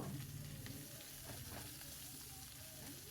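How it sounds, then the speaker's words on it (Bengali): Chopped onion and a handful of garlic cloves sizzle steadily in hot oil, a close, even crackle with faint stirring over a low hum, no talking. "আর এই তেলের মধ্যে আমি দিয়ে দেবো কিছুটা পেঁয়াজ কুচানো আর দেবো 5-6 রসুনের কোয়া"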